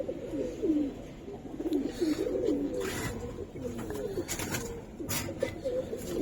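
Female Giribaz coloring pigeon cooing close by in soft, repeated throaty phrases, with faint background noise.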